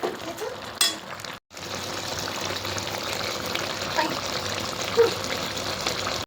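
Water with spices for a spinach fish curry bubbles and hisses steadily in a pan, a continuous close simmer with one brief break near the start.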